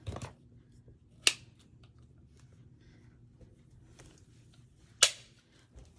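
Fabric being cut into 1.5-inch strips for fabric pumpkins, giving two sharp, isolated cuts a few seconds apart over a quiet room.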